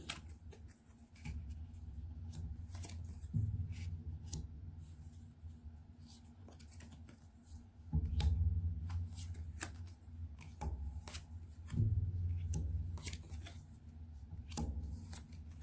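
Board game cards for a medieval-themed game are handled during an unboxing, with close, light shuffling, sliding and tapping noises in scattered bursts and a few louder handling thumps.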